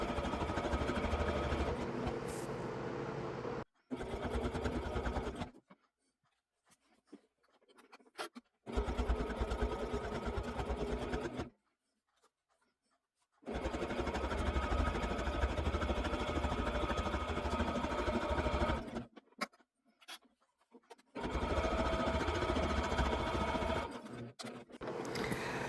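Close up, a sewing machine stitches fabric sashing onto the back of a quilt-as-you-go piece. It runs in several long bursts separated by silent pauses, and no one speaks.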